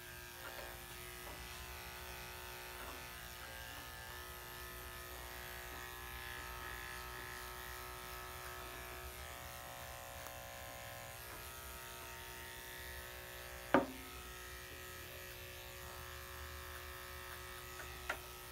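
Electric clippers buzz steadily while shaving the belly of a Yorkie during home grooming, a constant close hum running unbroken, with one sharp click near the end.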